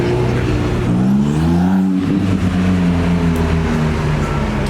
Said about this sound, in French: Oh, il y a une MC20 bleue qui arrive.